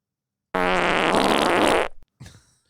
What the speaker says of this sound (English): Yes, a full body fart.